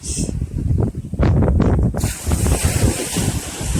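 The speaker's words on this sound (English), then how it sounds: "Walking along Browns Beach." Waves wash in on Browns Beach in Barbados while wind buffets the microphone, a steady, fairly loud rush of surf mixed with gusty wind noise.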